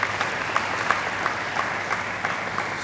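Applause from an audience at a property conference in Lagos, a steady wash of many hands clapping at moderate distance with individual claps popping out, continuous throughout without talk.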